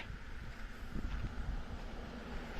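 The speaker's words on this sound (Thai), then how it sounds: "ลมก็แรงครับวันนี้ครับ" Steady strong wind buffets an outdoor microphone, a continuous low roar with slight gusting and no clear talking over it.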